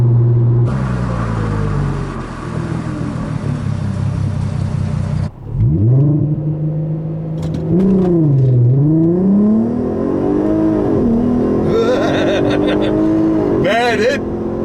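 A 2008 Volkswagen R32 engine roars loud and close, revving hard through several gear changes as the car accelerates, with a sharp break between shifts and rising, falling engine tones.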